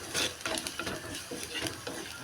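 Squid being stirred as it roasts down in a pan in a Kerala-style dry preparation, a busy run of scraping, clattering spoon strokes over a soft sizzle, close and fairly loud with no voices.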